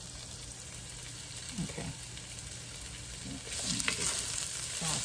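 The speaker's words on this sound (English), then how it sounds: "Saute this up. Have it on. Medium fire." Vegan food sautés in a pan over medium heat with a steady, close sizzle and occasional stirring scrapes. A voice says one brief word.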